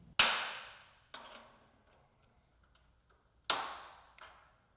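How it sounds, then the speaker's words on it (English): A torque wrench clicks sharply while tightening bolts on a 2024+ Polaris Xpedition XP bed platform, four distinct snaps in two pairs, close and isolated against a quiet background. "torque all bolts with the torque tool until the tool clicks"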